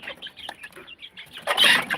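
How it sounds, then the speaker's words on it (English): Hungry chicks cluck and chirp softly in a garden coop at feeding time, a faint chatter of small calls with a brief louder flurry of wing flapping near the end. "We have 7 hungry chicks here."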